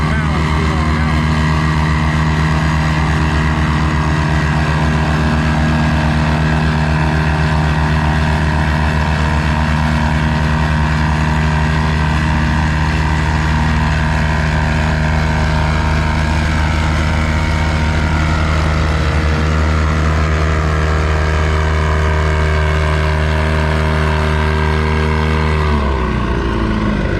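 A Farmall Super NPA vintage tractor hauls a heavy pulling sled at a Lynden, Washington tractor pull, its engine droning loud and steady for a long stretch before cutting off abruptly near the end.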